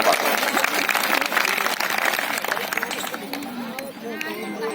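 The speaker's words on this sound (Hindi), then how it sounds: "आपकी बात को जोरदार तालियों के साथ स्वागत करूं" Audience applause welcoming a speaker at an anganwadi gathering, loud clapping at first that thins out as voices and chatter rise over it.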